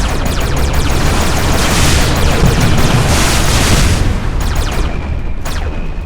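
Missile explosions in the space shooter game EVERSPACE Alpha, a dense, loud, continuous roar of booms and blasts with sharp crackling hits toward the end.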